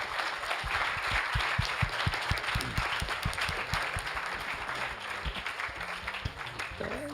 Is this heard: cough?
no